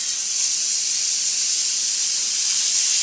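Burgers sear in a hot skillet over medium-high heat, giving a loud, steady hiss that runs without a break from start to finish.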